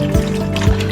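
Water poured into a bowl for smoked salmon pizza dough, with 2 tablespoons of salt in 300 millilitres: a short, close liquid trickle with two small splashing surges, no voices.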